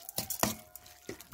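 Wet squelching and stirring of a sardine dolma mixture with salt, a few soft irregular mushy strokes close up, with no talking.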